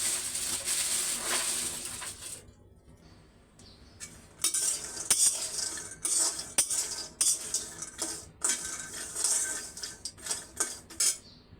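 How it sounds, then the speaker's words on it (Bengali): Peanuts roast in a pan on low heat while a utensil stirs them, making repeated scraping, rattling strokes with a soft sizzle underneath. "বাদামটা ভাজা হোক আগুনটা একটু কম"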